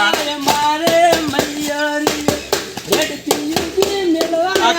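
Sharp hand claps strike in a steady rhythm over an ongoing sung melody with other voices, close and fairly loud throughout.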